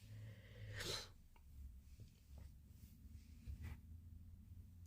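A pet rabbit sniffles and sneezes up close, with a sharp sneeze-like burst near the start followed by quieter snuffling breaths over a low background rumble.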